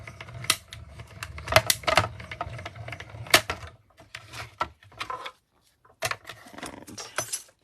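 Vellum is cranked through a manual die-cutting machine between cutting platforms, producing a series of close, uneven mechanical clicks and ratcheting clatters with short pauses.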